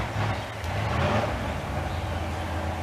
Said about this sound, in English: Neighbor about a half block away with a stock car. It's got to be a big block in it.